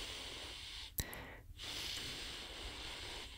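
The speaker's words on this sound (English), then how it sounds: "That's the sound of air coming through a nostril that's partially blocked by a booger." Air is drawn through a nostril partly blocked by mucus, giving a short sharp snort and then a breathy sniff against a faint steady hiss, close to the microphone with no talking.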